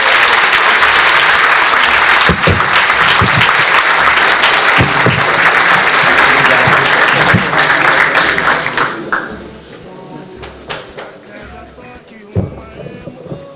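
Loud, dense applause from an audience at a Corinthians study-group event for a speaker named Celso, sustained for about nine seconds before thinning to scattered claps and fading.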